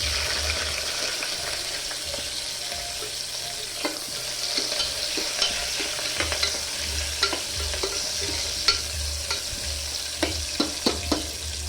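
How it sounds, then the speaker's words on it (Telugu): Onions and green chillies fry in a pan with a steady sizzle, broken by scattered sharp clicks and scrapes of stirring, close and moderately quiet with no talking. "ఎర్రగడ్డలు వేసి బాగా వేగుతాయి."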